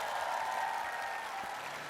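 A crowd at an outdoor talk concert in Seongnam applauds steadily, a dense even wash of clapping heard at moderate distance without a break.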